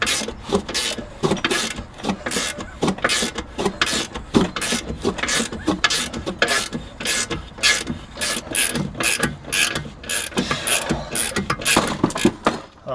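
A ratchet with a half-inch socket works on the front end of a 1972 Oldsmobile Cutlass. The close, rapid clicking comes in steady strokes, one after another, with no talking.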